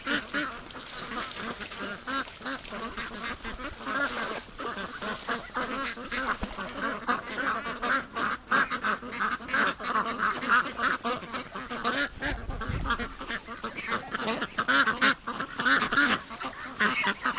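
Free range ducks on a lake creek quack as a flock in a dense, continuous chorus of overlapping calls, close and fairly loud throughout.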